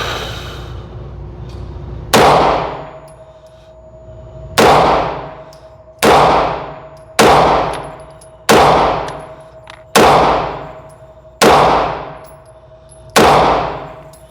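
A S&W M&P Shield EZ 9mm pistol fires about eight shots at steel targets outdoors, each a sharp crack followed by a ringing metallic clang that decays, spaced roughly one to two seconds apart.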